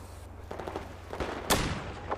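Gunfire in Battlefield 4 on the Floodzone map, a few sharp reports spread over two seconds with the loudest single shot near the middle over a steady low hum.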